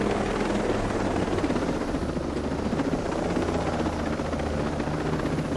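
A helicopter flies low over open country in Ghost Recon Breakpoint: a steady, loud rotor thump and engine drone that runs unbroken from start to finish, with no voices.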